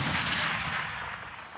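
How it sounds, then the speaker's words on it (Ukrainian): A single heavy blast from an artillery gun during military training booms out and rolls away into a long fading rumble, loud and close with no other sounds. "Гармата! Постріл!"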